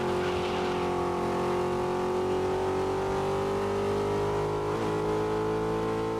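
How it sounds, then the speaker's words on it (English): A race car engine and exhaust in the video game GRID (2019) drone steadily and loudly, with the pitch rising slowly as the car holds speed under power. Near the end a short crackle or gear shift breaks in, and no voices are heard. "I think the fire from the exhaust sounds louder."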